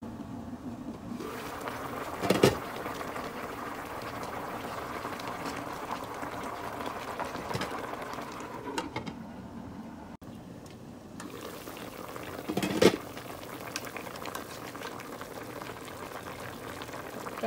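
Covered pot of salmon sinigang bubbling on the stove, a steady soft simmering hiss with occasional louder pops and clinks, fairly faint and continuous throughout.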